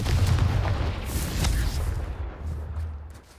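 Confringo fire spell explosion in the video game Hogwarts Legacy: a deep, rumbling blast that rolls and fades over a few seconds, loud and booming at first, then trailing off.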